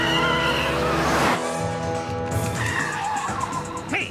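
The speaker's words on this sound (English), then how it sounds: "It's one of those crummy car chase scenes where the car hits the fruit vendor's push cart." A cartoon car in a chase scene screeches into a long, loud tire-squealing skid, then hits a fruit vendor's push cart with a sharp crash near the end.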